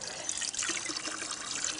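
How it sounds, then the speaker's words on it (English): Cool water driven by a small battery-powered pump runs through tubing into the condenser of a backyard distillation setup, making a faint, continuous trickling and splashing with no one talking. "this cool water pumps into the bottom of the condenser"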